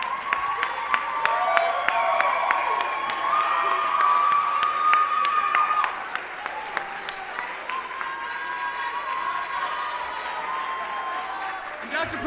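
A school audience at a student and faculty show applauds and cheers for the organizer, sustained clapping with whoops and shouts throughout, and voices call out over the crowd.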